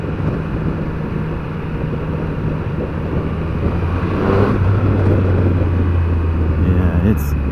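A 2021 Triumph Speed Triple 1200 RS engine while riding, a steady low rumble under wind rush that swells louder partway through as the revs climb, with a rider's voice talking over it.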